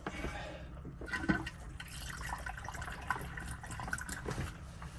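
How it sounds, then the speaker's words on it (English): Water flows through hoses into the sea cock strainer aboard a 46-foot Nordhavn, a faint, steady trickling and gurgling fill with small splashes, quiet and close. "the thing I want you to sort of pay attention to is how fast the water goes up within here"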